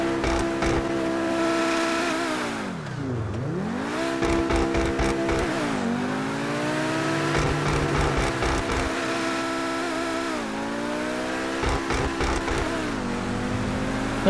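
A second-hand Lamborghini with front-end damage in GTA 5 revs hard as it drives, its engine note climbing and then dropping sharply at each gear change, loud and close with no talking.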